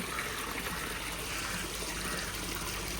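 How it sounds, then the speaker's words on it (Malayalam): Continuous rushing water pouring into a nearly full fish pond tank, a steady broadband stream without breaks, fairly loud and close, no voices. "ഇത് നമ്മുടെ ടാങ്ക് ഓൾമോസ്റ്റ് കംപ്ലീറ്റ് ആവാറായിട്ടുണ്ട് വെള്ളം നിറയാറായിട്ടുണ്ട്"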